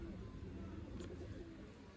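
Chapra pigeons cooing, low soft coos repeating close by against a steady background hum, with a faint chirp partway through.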